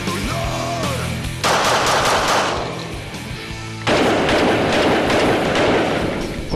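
A Walther P99 pistol is fired in rapid strings of shots on a shooting range, heard as two dense bursts of sharp reports with echoing tails, loud and close, separated by a brief lull.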